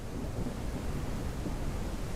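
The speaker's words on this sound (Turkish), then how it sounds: "Yağmur yağmaya başladı." Video game rain in Ranch Simulator hisses steadily with a low rumble of thunder rolling underneath, continuous and even throughout.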